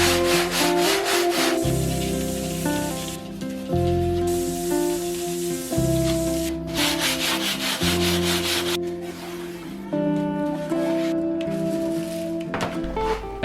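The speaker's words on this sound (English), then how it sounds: "Sand the leading edge and trailing edge of the bottom part of the wing like this." Abrasive sanding of the leading and trailing edges of a foam RC plane wing, repeated close rubbing strokes in steady back-and-forth bursts with brief pauses, loud and without talk.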